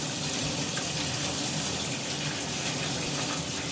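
Steady stream of running water rinsing conditioner from a dog's coat, an even hissing flow heard alone and fairly quiet throughout.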